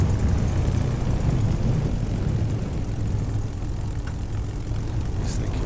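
A P-51D Mustang's piston engine during a ground run-up in Microsoft Flight Simulator: a loud, steady droning roar with a constant low rumble, holding at an even level throughout.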